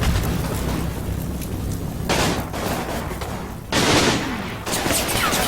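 Dense bursts of machine gun fire and explosions in a Combat Mission war video game, continuous rattling gunfire punctuated by louder blasts, no talking.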